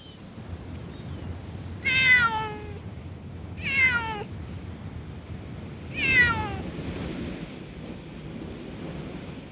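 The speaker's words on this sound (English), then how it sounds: "animal welfare activist Leo Grillo has tried for weeks to trap 2 cats living in this jetty." Two stray cats living in a seaside jetty near Oxnard, California, give three loud, drawn-out meows spaced a couple of seconds apart over a steady rush of surf.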